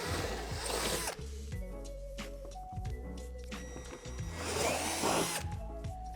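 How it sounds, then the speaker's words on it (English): A power drill with a 3/8 bit whines steadily through a plastic playset barrier, its pitch shifting as it bites and pauses briefly, close and loud with no voices. "drill them out with a 3/8 drill bit"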